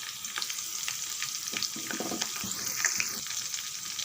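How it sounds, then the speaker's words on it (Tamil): Dried chili, curry leaves and asafoetida fry in hot oil with a constant crackling sizzle, close and fairly loud, with scattered sharper pops throughout. "நல்லா பொரிய ஆரம்பிச்சிருது"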